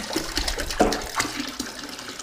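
Cold water splashing and pouring into beer wort in a brewing vessel during homebrewing from a kit, a close, gurgling rush of liquid lasting a couple of seconds.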